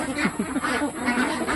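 Pet ducks, laying hens that have just begun producing eggs, give a run of short nasal quacks and calls over about a second and a half, close and moderately loud, with no talking.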